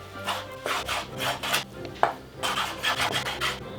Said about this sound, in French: Les tranches comme ça et on coupe en cubes.